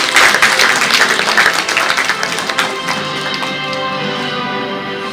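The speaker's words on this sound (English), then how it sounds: "little applause for the gentlemen and the stage and the wonderful women." An audience at the Kerala Leadership Awards 2024 ceremony applauds the people on stage, a loud, dense clapping that thins and fades over a few seconds as a tonal background comes through.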